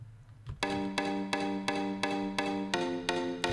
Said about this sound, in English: We have this kalimba.